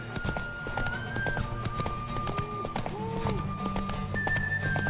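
Horse hooves clip-clop in a quick, steady rhythm within the video game The Witcher 3, close and clear, with a faint whinny-like tone and voices talking over the galloping.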